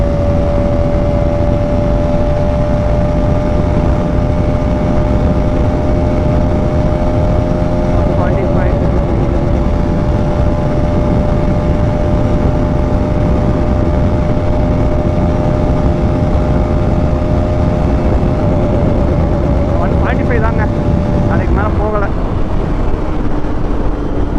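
A Bajaj Pulsar RS200 motorcycle held at top speed on the rev limiter gives a constant loud engine drone under heavy wind roar, with brief wavering pitch around the cut-out.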